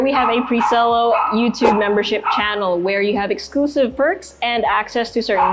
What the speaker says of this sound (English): I'm sorry for the dog barking at us right now